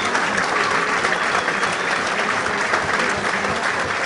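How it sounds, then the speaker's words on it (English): Sustained applause from seated diners at a Bristol sporting club amateur boxing dinner show, steady and dense throughout without breaks. "appreciative applause from the diners here"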